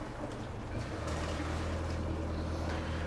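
Boat engine of a Bavaria 51 sailing yacht revved in neutral to about 1200 RPM, a steady low droning hum with faint wind and water around it, no talk.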